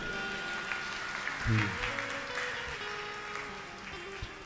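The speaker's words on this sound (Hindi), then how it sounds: "ताली को ज्यादा तो नहीं बजा दिया आपने।" Audience applause during a Hindi devotional discourse on the Bhagavata, a steady wash of clapping that swells briefly midway, with some crowd noise and voices mixed in.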